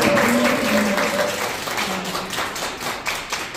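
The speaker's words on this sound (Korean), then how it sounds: "여러분 박수 한번 쳐" An audience at a Korean poetry recital festival applauds, a dense patter of clapping that starts loud and slowly tapers, with a brief voice early on.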